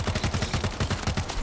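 Rapid automatic gunfire in World War Z rattles off in a fast, even stream of roughly a dozen sharp shots, moderately loud with no voices.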